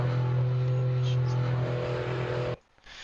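A race car engine in the racing game Assetto Corsa drones at a steady high pitch for a couple of seconds, loud and close, then cuts off abruptly into near silence near the end.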